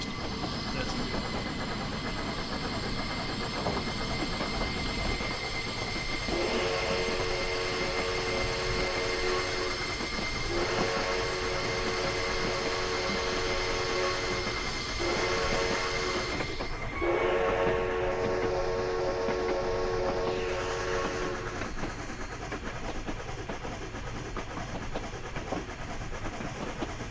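Train Simulator Classic, Central City Passenger route, crossing a high trestle: a steady rumble of rolling wheels and engine runs throughout. Four long horn blasts sound one after another, the last two close together, while someone talks now and then.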